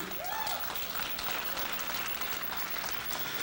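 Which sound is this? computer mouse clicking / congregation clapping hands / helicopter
congregation clapping hands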